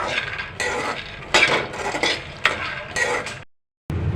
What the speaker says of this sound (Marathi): कढई तापल्यानंतर शेंगदाणे घालावे आणि स्लो गॅसवर चांगले खरपूस भाजावे